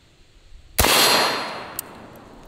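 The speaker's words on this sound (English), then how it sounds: "let's go ahead and shoot some body armor. We'll go ahead and start with the .223. This is just a regular 55 grain bullet." A .223 rifle fires a regular 55 grain bullet into body armor, a single sharp loud crack with a ringing metallic clang that decays over about a second, then a faint second tap.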